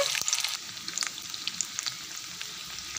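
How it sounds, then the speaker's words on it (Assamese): Cauliflower florets coated in gram flour batter crackle and sizzle loudly in very hot oil, with sharp spattering pops dense at first and then easing into a steadier fry. "বেচনত লেটিয়াই এনেকৈ পাহবিলাক মই তেলত দি দিছোঁ"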